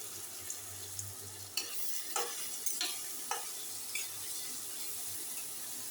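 A soybean chilli snack is stir-fried in a pan, with a steady sizzle underneath and a few sharp scraping stirs of a utensil against the pan.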